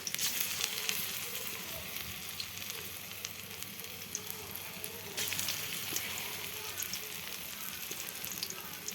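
Shrimp fritters frying in hot oil, a steady dense crackling sizzle throughout, close and fairly loud with no talking.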